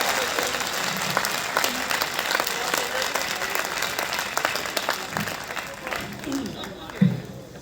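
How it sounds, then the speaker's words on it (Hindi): A crowd at a Hindi poetry recital (kavi sammelan) in Hansi claps steadily and thickly throughout, with a few louder bursts near the end, while speech mixes in underneath. "एक बार हाथ उठने चाहिए और तालियां बजनी चाहिए"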